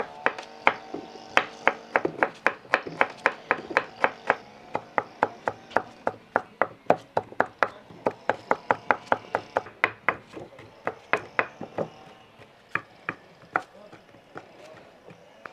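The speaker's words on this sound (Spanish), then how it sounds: "Ahora vamos a picar los plátanos." A knife chops plantains on a board in a long run of crisp, rapid, regular strikes, close and steady with short pauses, and a voice can be heard faintly in the background.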